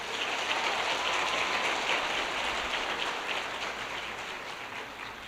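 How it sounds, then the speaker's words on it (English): Soft, distant applause from an audience at a high school scholarship night, a steady wash of many hands clapping that slowly thins out. "Let's have a nice round of applause for that section."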